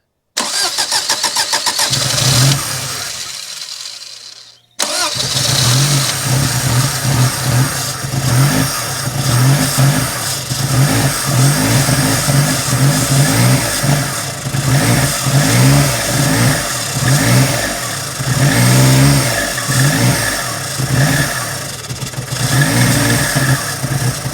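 A Daihatsu Charade GTTI hot hatch engine, long unused, cranks on starting fluid, cuts out briefly, then catches and runs steadily with repeated loud throttle blips and revs, close by with no talk.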